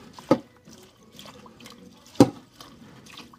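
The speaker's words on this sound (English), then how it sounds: "now I'm just going to take my knife and I'm going to stir it around" Knife stirring onions in sugar water in a bowl, two distinct wet clinks about two seconds apart with faint sloshing and liquid movement between, close and quiet.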